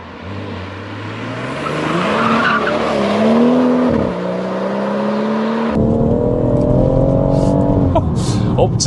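BMW M140i Shadow Edition turbocharged engine pulling hard up toward 6,000 rpm, a steady rising drone shifting pitch mid-pull, loud inside the cabin with heavy road noise.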